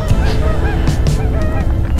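Waterfowl honk and call outdoors in the morning along a trail, loud and close, with several overlapping voices in rapid, irregular bursts over a steady murmur of more calls.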